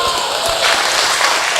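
A church congregation applauds during a worship service, steady dense clapping throughout with a faint voice underneath.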